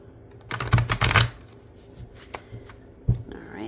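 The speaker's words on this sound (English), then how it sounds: "I shuffle them 5 times another way." Tarot cards being shuffled by hand in quick riffling bursts, loud and close, followed by softer scattered card taps and one more sharp shuffle near the end.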